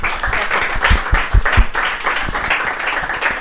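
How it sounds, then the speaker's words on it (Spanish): An audience at a startup event in Santiago bursts into sustained applause, dense overlapping clapping that holds steady throughout at close range. "Te pido un aplauso para Julián"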